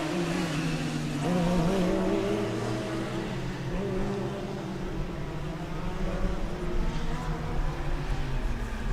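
Deggendorf Formula Student race car on an endurance run: a continuous, fairly loud engine drone from a distance, pitch wavering as it accelerates and lifts, with a broad background hiss throughout.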